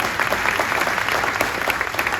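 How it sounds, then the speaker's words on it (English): Steady, dense applause from an audience at a high school athletics award ceremony honoring a distinguished Hoosier, loud and continuous with no talk over it. "you can applaud for that absolutely"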